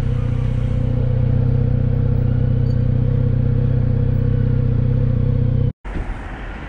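A 2019 Kawasaki Z900RS motorcycle turning slowly in a city: a loud, close, steady engine drone with a deep even rumble that holds for several seconds, then cuts off abruptly.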